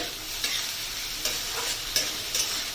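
Matar and chana dal fry in a pan with a continuous sizzle, broken by several sharp scrapes and taps from stirring at irregular intervals.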